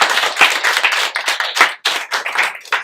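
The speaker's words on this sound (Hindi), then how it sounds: "तालियों के लिए शुक्रिया।" Audience clapping after a storytelling performance, fairly close and loud, a lively cluster of distinct hand claps that rises and dips in uneven bursts, thinning briefly near the end before picking up again.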